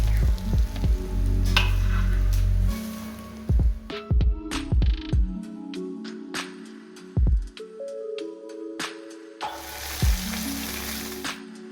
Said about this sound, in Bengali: মাছগুলো আমার ভাজা হয়ে যাওয়ার পর একটা প্লেটে আমি তুলে নিলাম